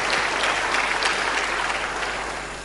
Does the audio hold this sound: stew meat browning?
no